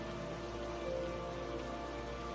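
Heavy rain pours steadily as a dense, even hiss with no gaps, moderately loud and unbroken throughout.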